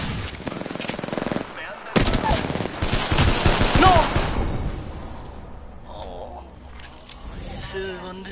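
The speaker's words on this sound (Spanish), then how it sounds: "Están disparando." Rapid bursts of video game gunfire, including machine-gun fire, crackle loudly in the first half, then thin out to scattered sounds while players talk over the action.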